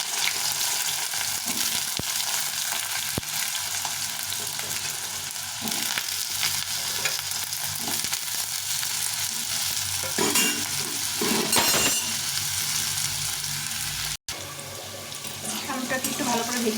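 Potatoes fry in a pan with nigella seeds and green chillies for a plain potato-tomato curry. A loud continuous sizzle runs throughout, broken by a few sharp utensil knocks and scraping stirs.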